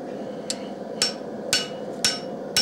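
A common hand hammer forges a steel utility knife blade on an anvil, five crisp, evenly spaced strikes with bright ringing, close and clear, with no talk over them.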